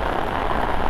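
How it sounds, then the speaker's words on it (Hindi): Steady rain pattering on a surface during the rainy season, a dense continuous hiss of drops close by with no voices or thunder. "ओए बारिश आंदी पी है"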